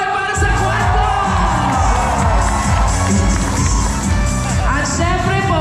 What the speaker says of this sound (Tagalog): Malakas na palakpakan sigawan para sa Quadcom.